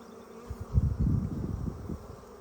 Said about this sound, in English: So, that is Tetra Pan's hive inspection for the week